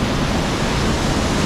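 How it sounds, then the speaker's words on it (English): Waterfall gushing into a creek that runs into the Pacific Ocean in Alaska, a steady loud roar of rushing water, close and continuous with no pauses. "This waterfall gushes into this creek, which dumps down here into the Pacific Ocean"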